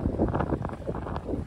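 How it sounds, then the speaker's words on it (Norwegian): Strong wind buffets the microphone aboard a sailboat on open water. The wind blows about 7 m/s with gusts near 8, and the boat sails at 6.5–7 knots. The rumble is continuous, with gusting swells and no voices. "Ja, nå kan jeg i hvert fall ikke klage på vinden."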